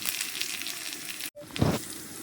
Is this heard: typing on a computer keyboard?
no